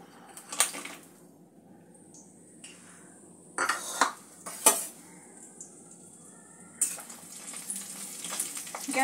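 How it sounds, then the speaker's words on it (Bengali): Lentil badis frying in mustard oil in a wok, with soft sizzling and intermittent stirring clatter and scrapes of a spatula against the pan, louder bursts at moments. "বড়িগুলো আগে একটু ভেজে নেব।"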